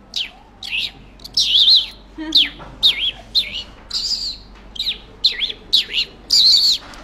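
A man imitates sparrow chirping with his voice, producing a quick series of about a dozen high, bright chirps in short bursts, close and fairly loud, with no other sounds.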